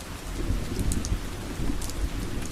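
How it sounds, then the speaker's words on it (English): Steady rain pours down in an even, unbroken hiss, with a soft low rumble beneath it and no voices. "Listen to the sound of the rain gently falling in the background."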